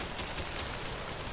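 Steady rain pattering on a surface in the game Quarantine Zone: The Last Check, a dense, even hiss of drops with no other sounds over it.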